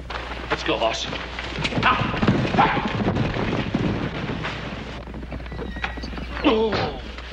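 Horse hooves clip-clop in scattered thuds on open ground, mixed with rustling and general outdoor noise, while people talk over them.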